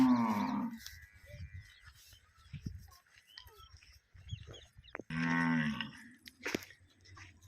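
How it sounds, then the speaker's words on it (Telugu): A pregnant black-and-white Holstein Friesian cross cow lets out two loud, close moos, one at the start and another midway. Quieter chewing and farm noises fill the gaps between them. "ఈ ఆవు వచ్చేసి ప్రజెంట్గా హెచ్ఎఫ్ క్రాస్ ఇది"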